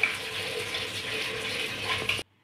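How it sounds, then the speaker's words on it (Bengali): Tap water pours into a pot of potatoes for pressure-cooker boiling, a short, steady gushing splash close by that cuts off sharply after about two seconds. "জল দিয়ে দিই।"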